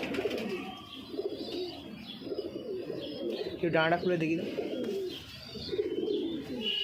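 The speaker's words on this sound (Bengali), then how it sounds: "মাদি পায়রা, খুব সুন্দর পায়রা" A female pigeon and others coo in low, rolling burrs, one clear throaty coo rising midway, mixed under near continuous conversation from people handling the birds.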